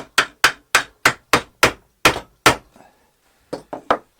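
Hammer blows driving a wooden dowel into a glued wooden stool: eight evenly spaced, sharp knocks, a brief pause, then three quicker strikes, close and loud with no talking.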